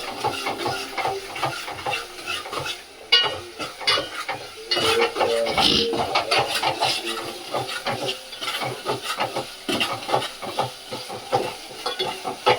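Masala sizzling and frying in a pan while a spoon scrapes and stirs it, with steady close scraping strokes over a continuous hiss and no talking.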